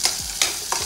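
Onions frying in oil with curry leaves for Hubballi girmit, stirred in the pan; three distinct scraping stir strokes punctuate a continuous close sizzle, with no voices.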